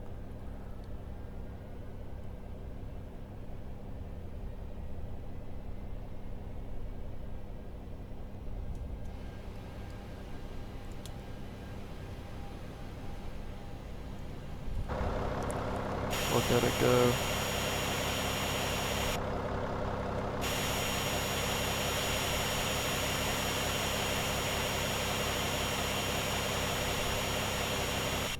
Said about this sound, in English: engine 2 is starting up. We can listen to the amazing sounds of them starting up